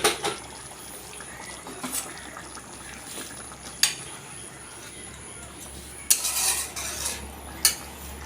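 Hot water poured into a simmering rohu fish curry with potatoes, followed by a spoon clinking and scraping against the pot in intermittent stirs, close and clear over a low background hum.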